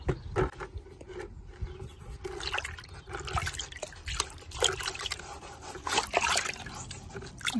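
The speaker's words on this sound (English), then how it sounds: "I thought I'd see what it's like cleaning off these. So does it really dissolve in water?" Tools coated in silicone render are rinsed in water, giving quiet, close trickling and sloshing with small splashes and drips that come and go in uneven bursts.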